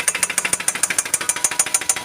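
A Suzuki Swift 1.4 engine with a worn connecting rod knocks at idle, a fast, steady, loud metallic tapping repeating about seven times per second, heard alone.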